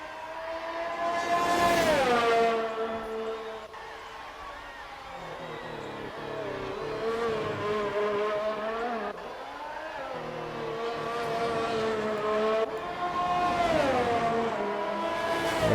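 Racing cars, among them a Mercedes, accelerating around a track in a racing game, engines rising and falling in pitch through repeated gear shifts and corners, loud and continuous, with a commentator talking over them.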